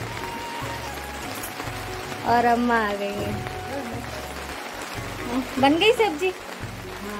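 Steady rain falling outside a house, a soft continuous hiss running underneath as people talk nearby in a domestic conversation.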